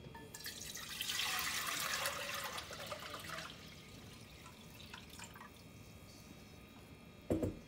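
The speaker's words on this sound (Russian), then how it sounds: "в кастрюльку воды" Water is poured into a saucepan for chicken broth in a short splashing rush that fades into light drips, followed by a brief metallic knock near the end.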